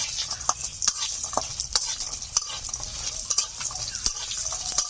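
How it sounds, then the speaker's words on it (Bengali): Lentil fritters (dal bara) fry in a pan with a steady, close hiss of oil, broken by sharp clinks and scrapes of stirring at irregular intervals; no voices. "এখন দিয়ে দিচ্ছি কলার ডালের বড়া"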